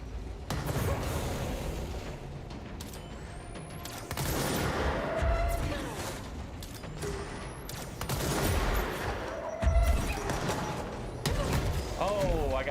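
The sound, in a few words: gunfire from the video game Control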